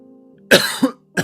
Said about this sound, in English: Pardon me for that cough.